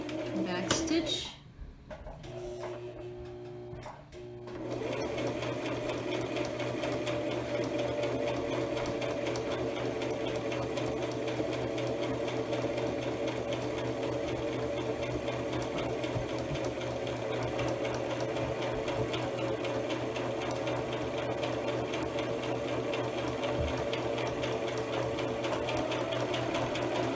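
A sewing machine stitches around a box on a fabric pouch, starting after a brief pause and then running as a steady, continuous close whir for a long stretch.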